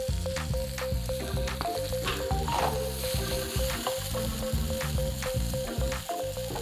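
Shallots fry in a hot pan with a loud, continuous sizzle and crackle, close up, steady throughout with no voices.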